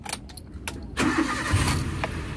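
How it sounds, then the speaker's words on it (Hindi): A Maruti Gypsy fitted with a CNG kit cranks briefly after a few clicks, then the engine catches and settles into a steady idle, loud and close to the microphone. "एक बार मैं गाड़ी स्टार्ट कर देता हूँ।"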